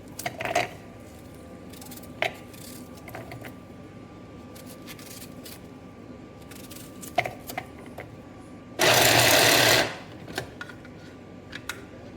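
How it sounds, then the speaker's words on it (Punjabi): A single loud burst from an electric grinder grinding onions, lasting about a second, breaks an otherwise quiet kitchen with a few light clicks and taps. "ਪਿਆਜ਼ ਪਾ ਕੇ ਗ੍ਰਾਈਂਡਰ 'ਚ ਪਾਉਂਗੀ ਗ੍ਰਾਈਂਡ ਕਰੂੰਗੀ ਇਹਨੂੰ"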